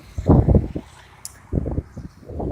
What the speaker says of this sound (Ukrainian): Блін, вітер.